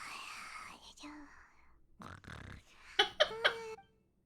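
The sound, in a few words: Paimon snoring in Genshin Impact video game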